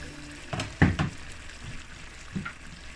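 Jamaican brown stew chicken sizzles quietly in a pot while a spoon scrapes and stirs it in a few short, irregular bursts, close by in a home kitchen with no talking.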